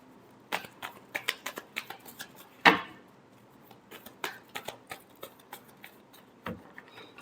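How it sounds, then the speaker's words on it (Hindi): Tarot cards being shuffled by hand, a run of quick close riffling flicks and soft slaps with one louder riffle midway, then scattered taps, alone without talk. "Last shuffle."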